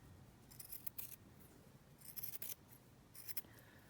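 Scissors trim a wide piece of lace in three quick bursts of close, crisp snipping, with quiet pauses between them and no talking.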